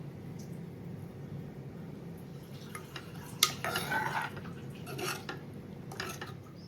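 A metal spoon scrapes and clinks against a cooking pot while mutton curry is stirred after coriander leaves go in, soft scraping near the start building to a few sharper clinks midway, fairly quiet and close.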